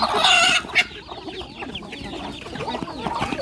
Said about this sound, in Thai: จับไม่ได้ละไก่ตกใจหมดเห็นไหม